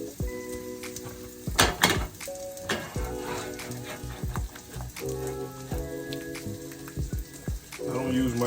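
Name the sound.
toasting the bread on the griddle, sizzling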